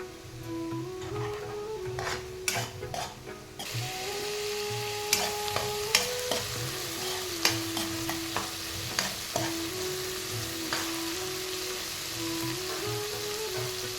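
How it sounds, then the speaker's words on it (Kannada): Masala sizzles and fries in oil in a pan for chana masala while a spoon stirs it, with scraping strokes and occasional clinks over a constant close crackle. "ಹಸಿ ವಾಸನೆ ಹೋಗೋವರೆಗೂ ಹುರ್ಕೊಳ್ಳೋಣ."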